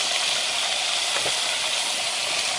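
Heart-shaped pieces fry in a pot aboard a boat, making a continuous loud hissing sizzle with a brief softer bump in the middle and no talking.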